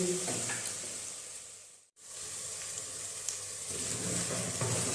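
Ginger garlic paste hits half-browned onions frying for beef okra, giving a steady, loud sizzle that breaks off briefly and then returns as continuous hissing frying.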